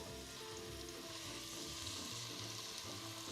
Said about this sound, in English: Yeah, nice sizzle. Looks good.